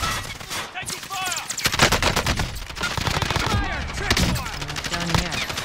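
Rapid automatic gunfire rattles in a first-person shooter video game, dense bursts of shots and ricochet-like whines layered over each other, close and loud, with a voice briefly heard beneath.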